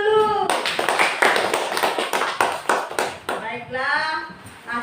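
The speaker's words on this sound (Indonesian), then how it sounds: "Oke, beri tepuk tangan dulu." A crowd claps in a dense burst of applause lasting a few seconds, then it fades as a voice begins speaking.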